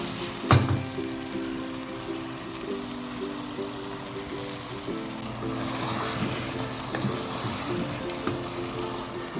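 Four chopped tomatoes tipped into a hot pan in a home kitchen, opening with a sharp pop and settling into a steady, gentle sizzle and crackle.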